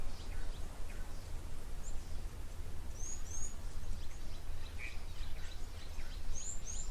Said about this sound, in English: Hear the green-backed Cameroptera calling in the background.